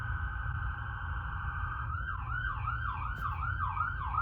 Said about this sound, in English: there's a siren going off